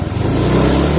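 Motorcycle engine revved with the throttle after idle adjustment to cure hesitation, a loud, steady mid-pitched engine roar filling the whole moment close up, with no talk.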